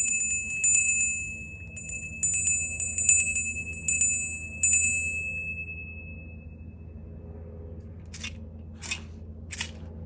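A small high-pitched bell rings in a series of quick strikes, its clear tone lingering and fading, followed by a few faint crisp clicks.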